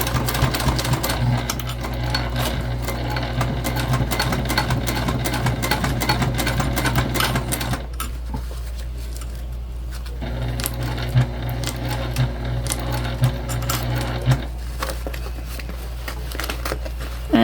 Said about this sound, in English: And then we're stitching around just like we did before.